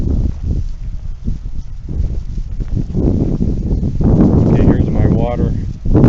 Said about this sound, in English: It's a little windy out here, so you may have trouble hearing me.